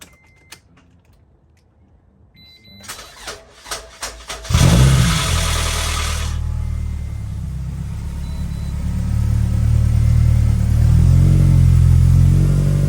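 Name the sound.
car engine running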